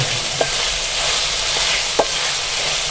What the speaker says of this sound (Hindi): इसके साथ ही हम प्याज शामिल कर देंगे।